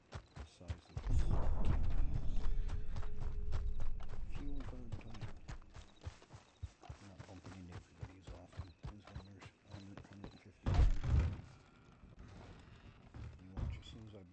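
Horse hooves in a Gilded-era roleplay video game, a loud close clip-clop of steady hoofbeats with a brief whinny, the hooves slowing into a sparser walking rhythm before another heavier burst near the end.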